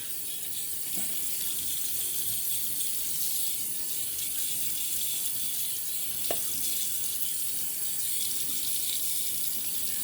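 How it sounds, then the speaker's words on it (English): Water runs steadily from a tap into a sink to wet the face before a shave, a continuous close hiss with no talking. "So let's wet the face and get to shaving."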